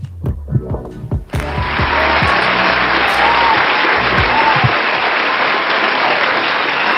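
Applause sound effect fired from a sound mixer during a live stream: after a few soft thumps, a loud, steady burst of crowd clapping starts abruptly and holds evenly to the end, up close and alone.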